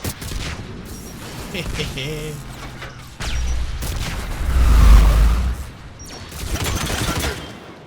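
Loud bursts of game gunfire and explosions during a firefight with rocket troopers in Mass Effect 3, with rapid volleys, heavier booming impacts in the middle and mechanical clatter, all close and dense.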